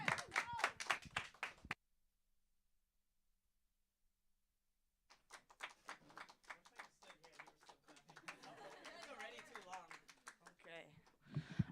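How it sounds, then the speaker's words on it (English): A live audience at a Sacred Voices show claps for a performer invited onstage. Dense clapping and cheering swell after a silent gap and continue steadily, mixed with a voice speaking. "please get up here and please give them a warm round of applause"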